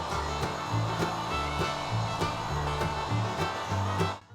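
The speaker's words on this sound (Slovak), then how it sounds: "alebo ako ja, opracovať uhlovou brúskou, ľudovo nazývanou flexa, s lamelovým kotúčom" An angle grinder fitted with a flap disc sands wooden boards for a raised garden bed, a close, continuous motor whine with a rhythmic rasping pulse as the disc sweeps back and forth, then trails off at the end.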